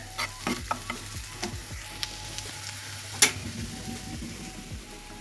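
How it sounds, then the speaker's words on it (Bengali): Green chillies and onions fry in oil with a soft, steady sizzle, broken by scattered clicks and scrapes from stirring and one sharp clink near the end; no one speaks. "কাঁচা মরিচ পেঁয়াজগুলো একটু তেলে বেজে নিয়েছি"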